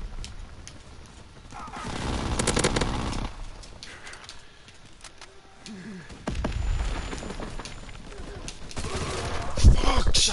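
Gunfire in a WWII video game, rattling bursts that swell and fade in waves with a sharp burst near the end, while players talk over the shooting.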